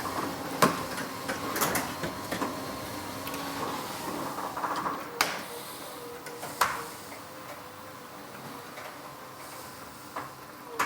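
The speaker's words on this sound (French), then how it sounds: "j'appuie maintenant sur la flèche descente, la flèche du bas, pour fermer la porte à fond" A motorized StandardLine sectional garage door closes, giving a low steady mechanical run broken by scattered clicks and a few louder knocks, heard fairly close with no talking.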